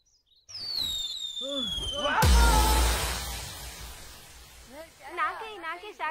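Firecrackers burst loudly at close range, with a sharp blast followed by a long crackling, fizzing burn-off, while people shout and talk over the noise.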